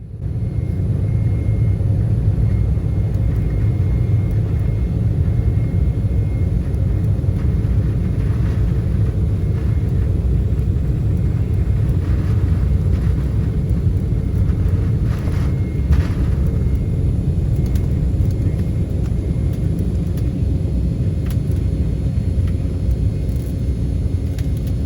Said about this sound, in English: Now let's enjoy this takeoff from Valencia.